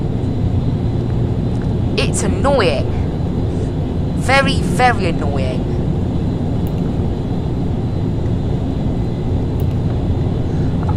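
Turboprop engines of an ATR 72 airliner climbing in the flight simulator FSX, a steady droning hum running throughout while someone talks over it.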